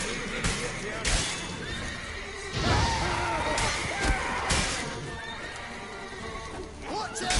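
A horse whinnies in The Witcher 3 amid a chaotic game scene, with clip-clop hooves, thuds and crashes around it. Voices speak over the noise.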